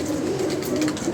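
A pigeon at a fancier's loft gives a brief, close, continuous low coo over steady background noise, with no talk.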